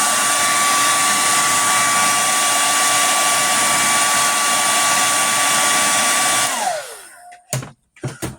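A heat tool blasts hot air onto an action figure's hand, a steady loud whooshing hum that winds down at the end, followed by a few brief knocks.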